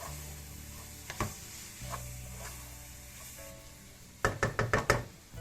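Tomato sauce and pepper paste fry in a pan with a low, soft sizzle, broken by a few isolated knocks and then a quick run of utensil taps against the pan.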